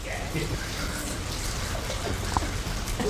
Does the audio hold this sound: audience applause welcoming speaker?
no